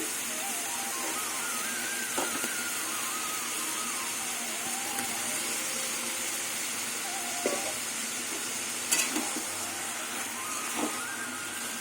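Potatoes and cabbage sizzle softly in a pan with occasional scraping clinks of a utensil stirring, a quiet continuous hiss underneath.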